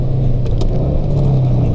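A Mitsubishi Evo's engine rumbles loudly and steadily at a track day, with a few faint sharp pops over the drone.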